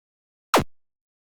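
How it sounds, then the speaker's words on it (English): Player death sound in a hero shooter video game: a single short, sharp burst with a quick downward-sweeping tone, fading within a quarter second, alone against silence. "So that sound was an example of what it looks like when a player dies."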